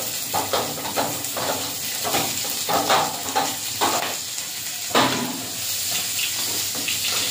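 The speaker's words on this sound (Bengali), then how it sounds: "রসুনটা লাল লাল করে ভেজে নিয়েছি। পেঁয়াজ আর লঙ্কাটা দিয়ে দেব।" Onion and chili hit garlic that is already frying in hot oil, setting off a loud, steady sizzle. Spoon scrapes and stirring clatter break through the hiss at close range.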